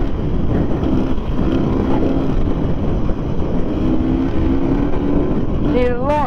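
A KTM enduro motorcycle engine drones steadily and loudly throughout a trail ride, with wind buffeting the microphone and a brief rising whine near the end.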